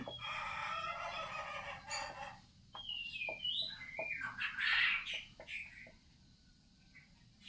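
Birds singing in a calm school garden outdoors. Scattered chirps and calls, including a louder, drawn-out fowl-like call, sound at moderate distance over a soft, steady background hiss.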